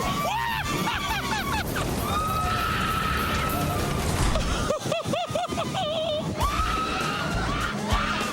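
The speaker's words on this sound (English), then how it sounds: "Do you hear that woman screaming?" A woman screams on an extreme Las Vegas thrill ride that shoots riders out over the Strip, shrill wavering cries cutting through loud wind and crowd noise, with a few sharp choppy bursts midway.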